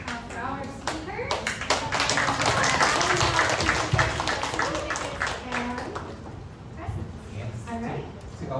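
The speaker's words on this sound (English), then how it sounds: "Yes, round of applause for our" An audience at a women-in-tech panel claps for the speakers, a dense patter of hands mixed with voices and chatter throughout.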